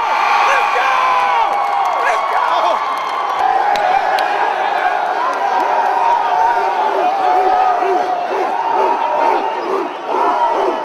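Loud, dense NJIT basketball home crowd roaring and cheering continuously in an arena during the final two minutes of a game that ends a 51-game losing streak, with shouts and whoops rising throughout.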